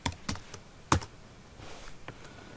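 Someone types HTML code on a computer keyboard: a few sharp, close key clicks in an uneven rhythm, with one louder strike and softer taps trailing off, alone without talk.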